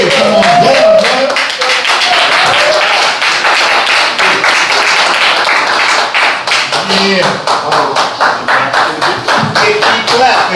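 An audience claps at an open mic night in a Red Lobster restaurant, producing dense, loud, rapid clapping that keeps going steadily, while a voice talks briefly over it near the start.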